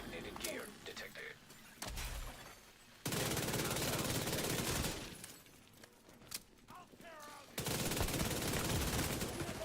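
Video game machine gun fire rattles in sustained loud bursts, alternating with quieter moments of clinks and effects, with a voice talking in between.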